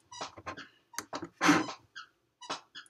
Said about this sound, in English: that's my dog playing with the toy